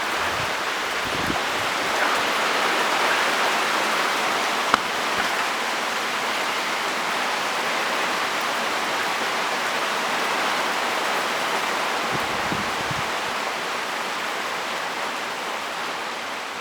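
Heavy rain pouring down during a severe thunderstorm, a dense, steady hiss that continues without a break, with a few faint knocks near the start and later on.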